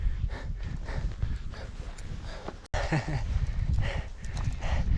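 Hooves clop steadily along a rocky trail at about 4,600 meters in the mountains on the Santa Cruz trek, a close, rhythmic series of hoofbeats against wind and rustling ground noise, with a brief gap midway.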